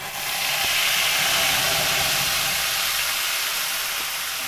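Coriander chutney with asafoetida fries in a hot pan for spiced potatoes, giving a loud, steady sizzling hiss that holds constant with a faint clink or two of a spoon.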